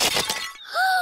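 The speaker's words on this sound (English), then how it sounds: "Mr. Bull has smashed the teapot to pieces" A china teapot smashes to pieces in a cartoon, giving a sharp bright shatter with scattering shards that quickly fades, followed by a ringing tonal note.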